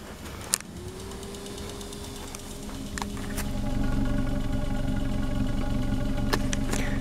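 Toyota Corolla engine idling quietly after being revived, a low steady hum that grows slightly louder partway through, with a few sharp clicks and ticks over the drone.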